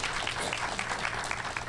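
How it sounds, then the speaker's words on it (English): A small crowd claps steadily throughout, a dense patter of applause with no pauses. "give them a round of applause"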